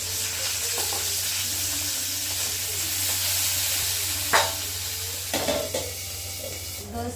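Green chili, tomato and onion fry in oil with a steady soft sizzle, broken near the end by a few sharp spoon-on-pan clinks and stirring scrapes close by.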